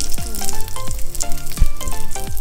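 Loud, close sizzling of hot oil crackling and spitting as chillies are tempered, with a few sharp descending tones cutting through the frying.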